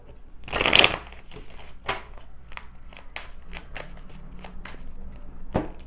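Tarot cards are shuffled by hand: one loud riffling burst, then a string of quieter crisp card slaps and flicks at irregular intervals, close and alone.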